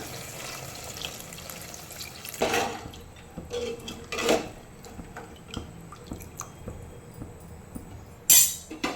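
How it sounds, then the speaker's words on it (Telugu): Water poured into a pot of kala mutton curry in a kitchen, with pouring and splashing bursts, drips and clinks of a pot or utensil, close and moderately loud, no talking. "వాటర్ కూడా వేసుకుంటాను"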